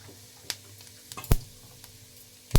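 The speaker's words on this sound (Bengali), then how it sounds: "ওই কড়াইতে দিয়ে দেবো ফোড়নে জিরে, গোটা জিরে দিয়ে দেবো 1 চামচ" Whole cumin seeds sizzle in hot oil in a kadai, a faint crackle punctuated by a few sharp pops and spatters, close by, with no voices.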